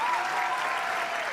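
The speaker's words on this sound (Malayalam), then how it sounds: "വിനോദ് കോവൂറിന് വേണ്ടിയിട്ട് നിങ്ങളുടെ കയ്യടി എവിടെ?" Audience applause at a Malayalam stage show, a dense, loud wash of many hands clapping together, sustained evenly throughout with a faint voice or tone running underneath.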